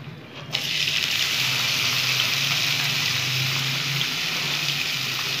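Potatoes frying with turmeric for spicy dim aloo bhurji, a steady loud sizzle that starts abruptly and holds evenly throughout, close up with no talking.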